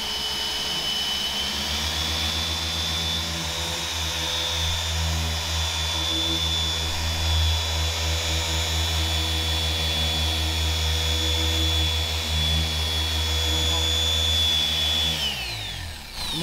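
A machine polisher working polishing compound over a surface gives a steady, loud, high-pitched motor whine with an even drone that runs unbroken for about fifteen seconds, then winds down and stops near the end, with no talking.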